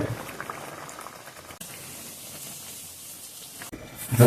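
Pigeon peas boil in a pot at a steady boil, with a dense, continuous gurgling and a brief shift in tone partway through. No voices are heard.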